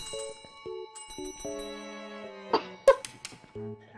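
Inside a building in the Phasmophobia video game, a handheld bell rings in short tonal chimes of varied pitch, with a few sharper clattering hits and a brief cough-like burst in the middle.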